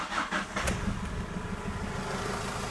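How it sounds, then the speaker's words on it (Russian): A Ford Transit Connect with a 1.8 engine starts up quickly after repairs to its fuel pump and settles into an even, steady idle, heard close and alone without talk. "Запускается машина с полпинка."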